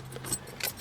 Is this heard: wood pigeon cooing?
no